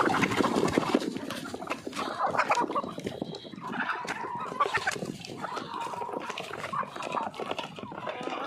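Free-range desi chickens on a village farm cluck and squawk busily around someone feeding them leftover rotis, a close, continuous chatter of hens with scattered sharper calls and little talking.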